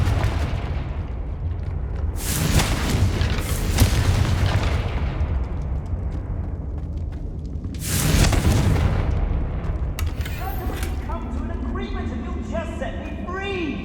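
Fire spells burst in the Hogwarts Legacy video game, two big booming explosions a few seconds apart with long roaring tails, followed by crackling magical effects, under a dense game soundscape with voices.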